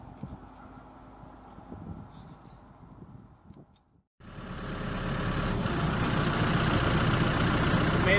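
A John Deere 6100D tractor, 100 horsepower and four-wheel drive, pulling a four-bottom plow through wet field soil; the diesel engine is faint at first, then after a brief gap it swells into a loud, steady, straining drone.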